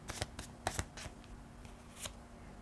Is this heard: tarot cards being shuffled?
yes